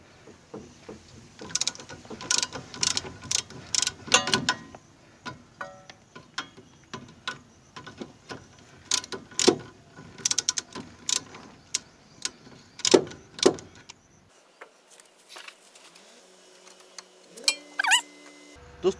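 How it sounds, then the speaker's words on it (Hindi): Ratchet wrench loosening drive shaft nuts on a Maruti 800 under restoration: irregular bursts of sharp metallic clicking and ratcheting, close and moderately loud, with quiet gaps and clanks between strokes. "लूज होने के बाद हमारा रैचेट मस्त काम करेगा।"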